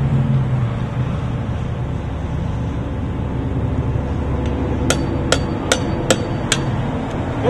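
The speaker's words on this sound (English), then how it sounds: "What I'm going to do now is drive a screwdriver into the tire" A screwdriver is driven into a tire over a steady background rumble, with a series of sharp hammer-like strikes near the end, five or six close impacts in quick succession.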